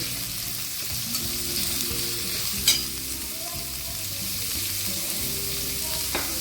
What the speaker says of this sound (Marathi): आता आपण गाजर टाकतोय आणि गाजर आपण थोडंसं शिजवून घेणार आहोत. ह्याच्याबरोबर परतून घेणार आहोत